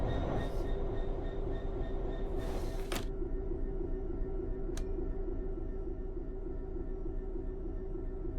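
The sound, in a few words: train running, from video game Train Sim World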